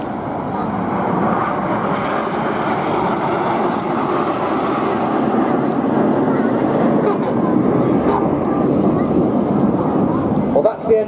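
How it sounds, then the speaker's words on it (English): RAF Red Arrows jets performing an aerobatic air show display roar continuously overhead, a loud broad engine rush that swells slightly and holds for the whole stretch. "you've so far seen all eight aircraft performing various different shapes and aerobatic maneuvers"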